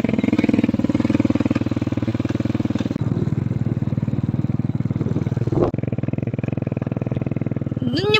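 A motorcycle engine runs steadily nearby in a pulsing, loud drone that dips briefly and then continues, with a brief rising whine near the end.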